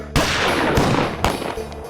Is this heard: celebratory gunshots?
yes